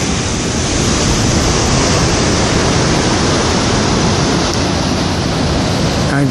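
Waves and rain at the harbour of Port Ouest, Réunion, during a passing squall, a loud, continuous broadband roar of surf and rainfall mixed with wind buffeting the microphone, with no voices.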